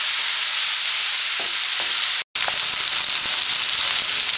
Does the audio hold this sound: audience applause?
no